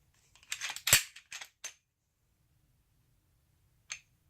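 A CZ P10C pistol handled during a safety check: a quick cluster of sharp metallic clicks and snaps, then a pause and one last click, close and crisp with no talk.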